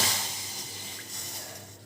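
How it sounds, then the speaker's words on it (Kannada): A glass of water is poured into a cooking pot while making jowar roti, a short splashing gush that fades over under two seconds, alone. "ಒಂದು ಲೋಟ ನೀರು ಹಾಕ್ದೆ"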